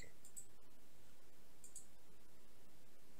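Faint computer mouse clicks during a React front-end coding session, a couple of soft, sharp clicks near the start and another pair midway over a quiet background hiss, with no speech.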